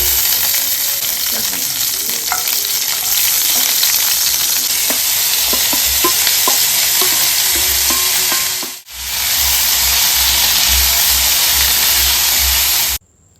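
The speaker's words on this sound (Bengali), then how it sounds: "আমি এদিকে ঝটপট করে ভাজাটা করে নিচ্ছি" Potatoes cut for a home-cooked side dish stir-fry in shallow oil in a pan, giving a steady, close sizzle with scattered spatula scrapes and taps. The frying cuts out briefly near the middle, then resumes.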